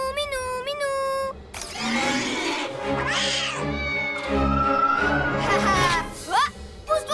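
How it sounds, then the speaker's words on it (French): A cartoon cat lets out a series of drawn-out, wavering meows and yowls that rise and fall in pitch, loud and close, over background music and sound effects. "Oh, un autre chat effrayé."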